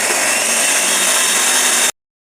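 A butter and mayonnaise mixture for bruschetta is whizzed in an electric blender, a loud, steady motor whir lasting about two seconds before cutting off abruptly to silence.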